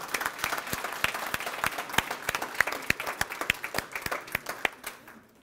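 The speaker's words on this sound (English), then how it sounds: "please give these people a round of applause" A graduation crowd gives a round of applause: many hands clap in a brisk, fairly even patter that thins out toward the end.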